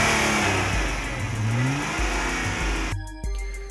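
A 2009 Nissan GT-R with a hand-built 3.8-liter twin-turbo V6 revs loudly nearby, the engine note rising and falling through several pulls before cutting to a lower, choppier tone near the end.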